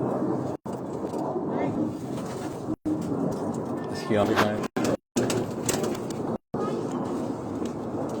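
A female black Chinese pigeon coos softly in short, low notes that sit under someone talking close to the microphone almost the whole time.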